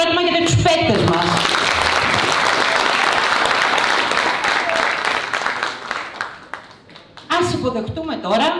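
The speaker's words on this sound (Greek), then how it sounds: "Σας παρακαλώ πολύ ένα χειροκρότημα για τους παίκτες μας." A large audience claps loudly and steadily for several seconds at a carnival show in Kalloni, fading out before a voice speaks over the end.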